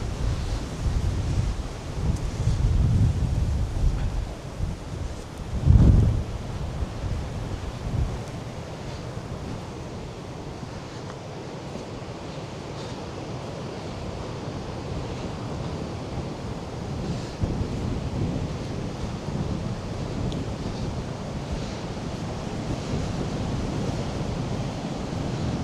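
Strong seaside wind roars across the microphone while high waves crash and wash along a long sandy beach, a loud continuous rushing with a heavier gust near the start.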